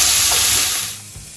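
Loud sizzling hiss of beef searing in a single layer in a hot frying pan, steady at first then easing off, with faint clinks near the end.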